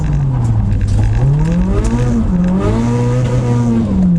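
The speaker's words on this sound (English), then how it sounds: "Let's go and see what S15's like. S-body fun. Woo! Makes a good noise." A Nissan S15 Silvia drift car engine revs hard up and down close by, pitch rising and falling in quick surges with a raspy exhaust note.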